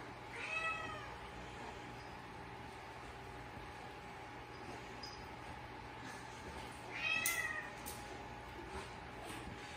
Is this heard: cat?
yes